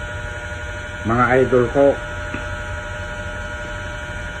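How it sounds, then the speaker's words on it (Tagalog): An electric fan runs nearby with a steady, even mains-like hum and whirring drone throughout, while someone speaks briefly over it midway. "Pasensya na po yung ingay po ng electric fan."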